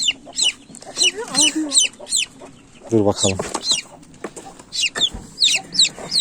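Hens with chicks cluck repeatedly in short bursts with high chick peeps around them, and someone speaks briefly partway through.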